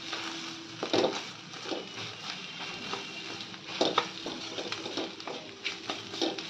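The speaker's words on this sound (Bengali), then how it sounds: "এবার আমি ডিমটাকে ঝুড়ো ঝুড়ো করে নেব।" Egg being broken up and fried in a kadai with pepper and salt for egg chicken fried rice, a soft sizzle under intermittent scraping and stirring of the spatula, close and moderate in volume.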